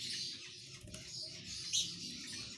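Baby birds chirp in thin, high cheeping calls close by, steady over faint background noise.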